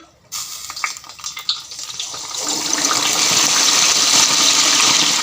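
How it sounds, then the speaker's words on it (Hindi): Chicken drops into hot oil in a kadai for Peshawari chargha, and after a few clattery knocks the frying builds into a loud, steady, close sizzle that keeps rising and holds for several seconds. "ऑयल गरम होगा तो फिर हम इसमें चिकन डालेंगे।"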